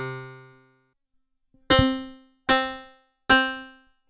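A granular delay on a Loopstation with feedback above 90 turns short inputs into ringing, pitched percussive notes, like a struck bell or keyboard. A fading tone is followed by three sharp, bright hits that each decay smoothly.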